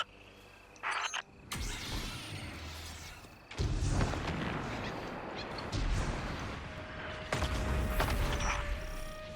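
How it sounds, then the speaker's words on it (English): Explosions and gunfire in the video game Destiny 2: heavy booming blasts and crackling shots arriving in several loud bursts over a dense, continuous battle roar. "Explosions, gunfire, the screams of my competitors."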